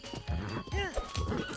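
A horse in Zelda: Breath of the Wild lets out a single wavering whinny midway, surrounded by hoof clatter and game sounds while someone talks over it.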